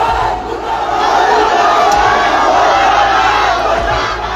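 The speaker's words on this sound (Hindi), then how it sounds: "प्रदर्शन करने पहुंची लोगों की भीड़ धड़धड़ाते हुए" A crowd of protesters forces its way into a hospital, a loud continuous roar of shouting voices that stays dense and agitated the whole time.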